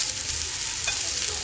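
Radish and onion fry in a pan with a loud, constant close sizzle and a light stirring touch partway through.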